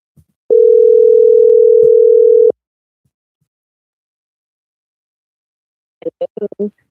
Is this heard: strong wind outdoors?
no